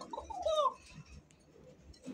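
Fancy pigeons coo close by, with a short burst of throaty calls followed by quieter low murmurs against a soft background.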